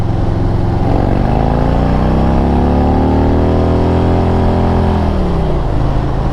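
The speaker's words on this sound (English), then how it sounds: "Can you hear the rev?" A Harley Street Glide or Road Glide motorcycle in fifth gear revs loudly and close while standing still, its engine tone climbing steadily and then falling away. The bike has a suspected clutch fault.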